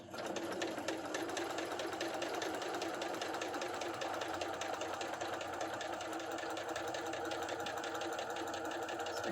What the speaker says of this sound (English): we're keeping the edges lined up and we're just sewing straight around